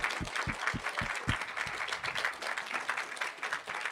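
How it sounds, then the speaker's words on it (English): Audience applause at a YogaFest gathering, a steady wash of clapping from a modest crowd with a few sharper, closer claps near the start, moderately loud and continuous. "Joshua Clark in the back, raise of applause."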